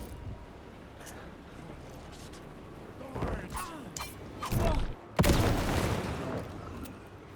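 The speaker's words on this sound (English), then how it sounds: "even with the shotgun at point-blank range" Shotgun blasts fired at point-blank range in the game Alan Wake 2, a few heavy booming shots with a sharp loud one near the end, over quiet ambient game sound.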